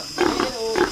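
A caught wild boar gives a couple of loud, harsh squeals in quick succession, close by, with a short break between the cries.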